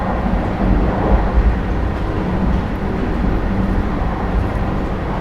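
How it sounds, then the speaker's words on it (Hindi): Vande Bharat Express train no. 22426 running at speed between Delhi and Ayodhya, a steady loud rumbling roar of wheels and carriage heard from on board, continuous with no talk. "क्योंकि भाई ट्रेन चल रही है"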